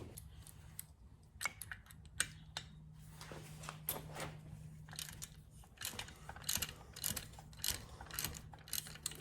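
A wrench loosens a 13mm bolt on a prop pulley, giving faint, quick ratcheting clicks and metallic ticks in uneven bursts over a low steady hum.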